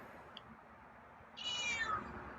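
A feral cat gives a single faint, descending meow against quiet outdoor background noise.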